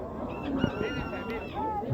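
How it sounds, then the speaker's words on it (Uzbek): Geese honk in a noisy cluster of nasal calls, close by, at a poultry market with other farmyard fowl mixed in and a steady background murmur. "Chiroyli g'ozlar ham."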